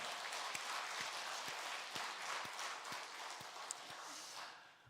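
A church congregation claps for the choir, a faint, steady patter of many hands with a few sharper, more distinct claps spaced through it and no talking.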